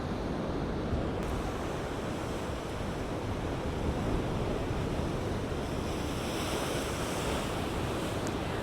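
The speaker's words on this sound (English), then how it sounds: "these waves are only going to get even bigger over here on this northern part of the island" Large surf from a swollen sea breaks and washes steadily onto the shore at Cala Sant Vicenç on Mallorca's northern coast, a continuous loud roar with gusting wind across the microphone and no voices.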